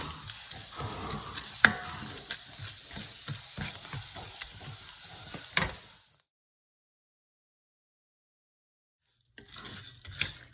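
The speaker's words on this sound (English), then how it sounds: "Now I'm going to saute the rice for about 2 to 3 minutes." Rice sautéing and toasting in a pan gives a soft, close crackle with scraping stirs and a few sharp clicks, then cuts to silence for about three seconds before the frying noise resumes briefly.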